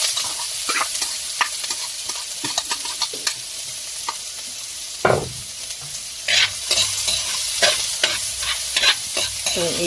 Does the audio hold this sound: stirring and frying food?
yes